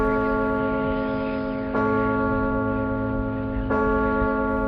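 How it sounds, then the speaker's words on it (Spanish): Deep, ringing bell strokes with long sustained overtones; a fresh strike lands about every two seconds over the lingering hum. "En aquel momento las campanas daban las 11:15."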